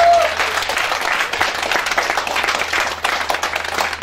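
A congregation applauds at a Friday-night prayer vigil, a broad, dense wash of clapping that holds steady for about four seconds, with a few voices mixed in and a low hum underneath.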